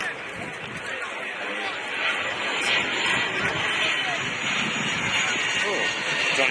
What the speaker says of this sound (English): Private jet flying in